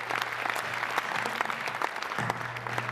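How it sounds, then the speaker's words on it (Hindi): At a Hindi comic poetry gathering (hasya kavi sammelan), the full hall claps in honour of Modi, giving sustained, lively applause with crisp individual claps standing out over a low steady hum. "एक बार मोदी जी के लिए पूरा सदन तालियां बजाकर उनका अभिनंदन करे।"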